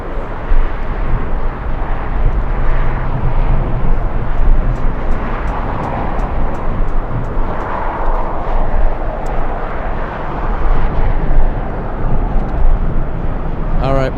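Executive jet on approach to land at LAX in strong winds, a steady broadband engine roar holding loud throughout with a gusty wind rumble underneath and a voice talking over it.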